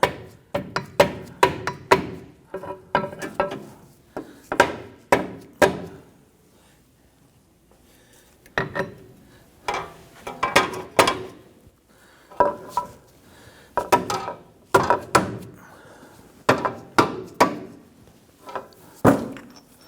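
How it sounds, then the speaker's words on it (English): A mallet strikes a front control arm on a 2017-2020 Hyundai Elantra into place, landing sharp close knocks in quick bursts of several blows each, with short pauses between bursts. "use a mallet to go ahead and bonk this in"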